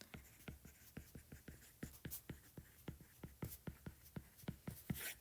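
A math equation being written out by hand, steady scratchy pen strokes in quick irregular rhythm, faint and close, with no talk.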